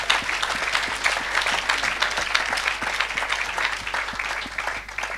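Church congregation applauding for Jesus, a sustained burst of many hands clapping in a reverberant room, fairly even throughout with no talk.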